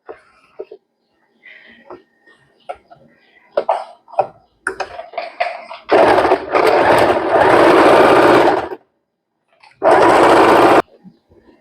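An electric sewing machine stitching the end of two cut fabric pieces for a baby's party frock, running in two loud rapid whirring bursts between quiet handling sounds and brief murmurs.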